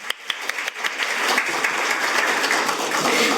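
A crowd at an emergency-medical policy forum breaks into applause, a few scattered claps swelling quickly into steady clapping.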